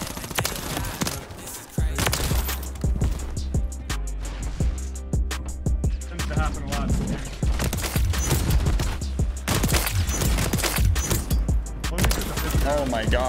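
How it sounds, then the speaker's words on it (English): Rapid, loud gunfire from a modified longbow sniper rifle in a video game, firing in fast repeated bursts like an assault rifle over heavy game action, with brief pauses between strings of shots. "Oh my god, those shots."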